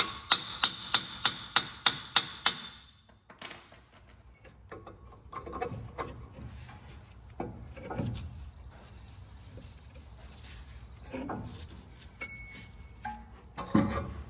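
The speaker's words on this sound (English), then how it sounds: "Might have to tap the outside with a hammer." Eight sharp, evenly spaced hammer taps on metal ring out at the start while fitting a chrome lift kit on a pickup truck, followed by scattered clanks and handling noises of tools on metal.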